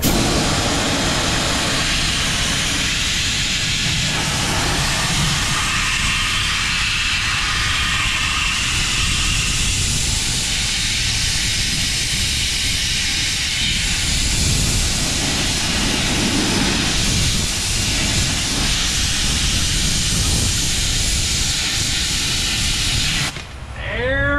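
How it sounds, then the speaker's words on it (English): Brake cleaner hissing from an aerosol can onto a Ford Mustang's brakes: a loud, steady spray that runs almost unbroken for about 24 seconds, with no talking, then stops abruptly at the end. "Doing this in conjunction with the release of the brake cleaning chemical agents."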